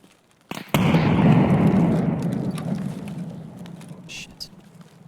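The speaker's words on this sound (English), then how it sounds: "I'm gonna throw a nade." A grenade goes off in Escape From Tarkov with a sharp, loud blast and a long rumbling decay that fades over several seconds, while a voice speaks faintly underneath.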